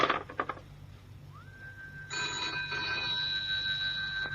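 A telephone bell rings out clearly in a quiet room, a steady sustained ring following a few soft knocks and shuffles at the start.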